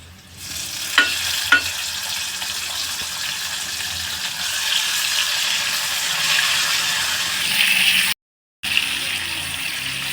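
Chopped tomato goes into a hot tempering of garlic and asafoetida, a loud steady sizzle with a couple of sharp spoon clinks near the start and a brief dropout near the end.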